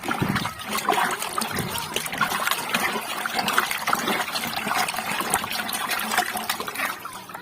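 NPK and urea fertilizer being dissolved in water in a 20-liter bucket, heard as a steady close trickling and sloshing of liquid running continuously without talk.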